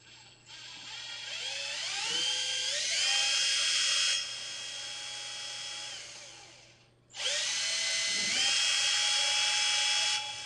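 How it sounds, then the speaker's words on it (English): Handheld power drill boring holes in two long bursts, the motor whining as it spins up, running steadily, then cutting out before a second run; close and loud, with no talking. "Okay, I need to drill this and this."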